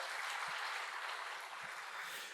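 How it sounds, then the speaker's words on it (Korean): A church congregation claps together to welcome newcomers during a Sunday service, a steady, dense wash of applause that sustains evenly throughout. "박수로 환영하시기 바랍니다"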